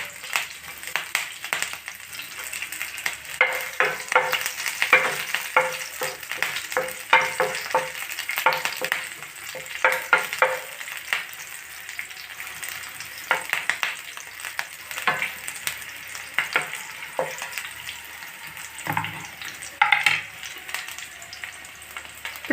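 Green chilies and curry leaves frying in a pan on a stove for fish fry, crackling and spitting in bursts of popping over a constant sizzle, with busy stirring throughout.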